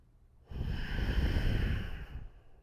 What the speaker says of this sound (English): Hands together, take a breath.